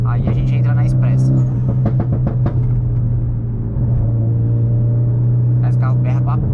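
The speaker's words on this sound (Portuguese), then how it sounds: "Esse carro berra pra porra, mano. Olha que da hora que ele faz." A Mitsubishi Lancer Evolution X drives through São Paulo, its engine holding a loud, steady low drone under bursts of talk from people inside the car.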